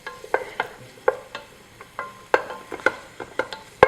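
Coarsely chopped onions fry in a pan for pastourma al forno, with a light sizzle under a series of sharp, irregular clicks and scrapes as they are stirred and tossed close by.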